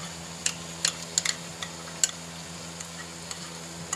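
A spoon stirs fried masala mixed with whipped yogurt in a pan for chicken tikka biryani, giving soft scraping and light clinks at irregular intervals over a faint steady sizzle.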